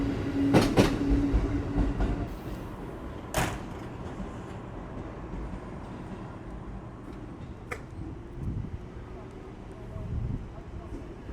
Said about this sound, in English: And there goes the train leaving behind us